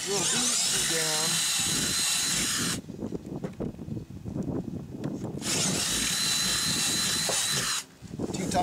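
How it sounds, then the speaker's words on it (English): A power drill whines loudly in two long runs separated by a pause, driving screws into a boat T-top, with people talking over and between the bursts. "So we'll drill these two down."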